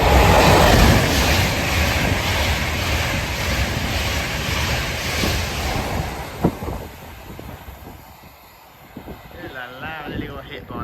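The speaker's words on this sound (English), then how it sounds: "There's a train passing through the station." A train passes through Alderley Edge railway station, its loud, steady rumble and wheel noise close by, then fading away and leaving quieter ambient sound with a few clanks.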